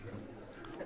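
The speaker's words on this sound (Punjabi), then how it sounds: "ਇਹ ਜੀ ਚੌਧਰੀ ਸ਼ਾਮ ਸਾਹਿਬ ਹੋਰਾਂ ਦੇ ਪ੍ਰਵਾਜ਼ੀ ਕਬੂਤਰ ਨੇ ਜੀ" Racing pigeons at Chaudhry Sham's dera in Gujrat, birds that fly in competitions, give a soft, low coo close by in a quiet setting, very brief.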